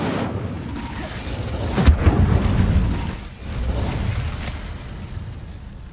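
The Incendio fire spell is cast in the Hogwarts Legacy video game, a loud whooshing, rumbling burst of flame with a sharp pop near the start, swelling and fading over a few seconds.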